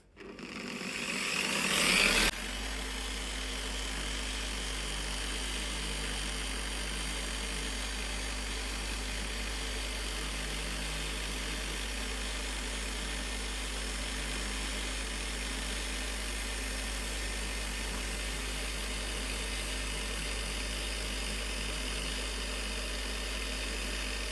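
A polishing machine fitted with a brush runs at medium speed, setting three, for coating preparation, starting with a brief surge and then holding a steady, even whirring drone alone for over twenty seconds.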